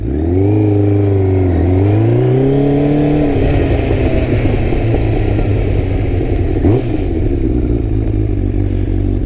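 A motorcycle engine revs up and shifts through gears, pitch climbing and dropping between shifts, then settling into a loud, steady drone nearby.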